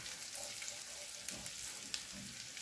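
Garlic frying in oil for a dal tarka gives a quiet, steady sizzle with faint crackles and occasional small pops, heard close up without talking.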